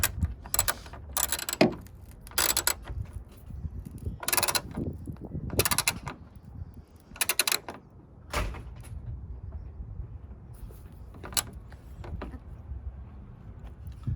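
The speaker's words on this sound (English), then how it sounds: "go ahead and grab your 10mm socket and tighten up this one at the top here." A 10mm socket ratchet tightens a screw on a 2020 F-150 tailgate, giving close, repeated bursts of clicking ratcheting separated by short pauses, alongside some handling noise.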